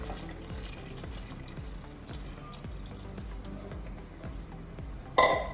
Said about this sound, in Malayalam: അപ്പോൾ നമ്മൾ ഫസ്റ്റ് പാൽ ഇവിടെ ചേർക്കുകയാണ്